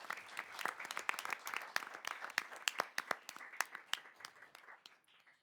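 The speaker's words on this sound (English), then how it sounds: "a round of applause." Audience applause for debate semifinalists at a high school debate final, a sparse round of individual claps from a modest crowd that thins and fades out at the end.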